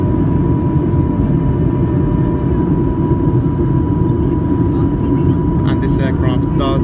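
A Norwegian Boeing 737-8 rolls out after landing with its spoilers deployed. Heard from inside the cabin, a loud, steady, deep roar of engine and runway noise continues throughout, with faint voices near the end.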